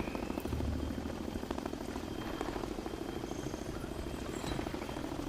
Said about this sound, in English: A helicopter will deliver the new animal to the exhibit.